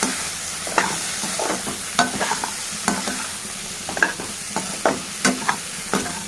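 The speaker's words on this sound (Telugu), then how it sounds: "ఇప్పుడు ఇందులో మనం కారము ధనియాల పొడి వేసాము బాగా కలుపుకోవాలి" Chili powder and coriander powder being stirred into potato, garlic and pea fried rice in a hot pan: repeated scraping stirs at an uneven rhythm over a steady close sizzle, with no talking.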